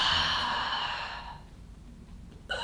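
During a partner stretching session, a person gives a long, breathy exhale up close that fades out over about a second and a half. A short sharp intake of breath follows near the end.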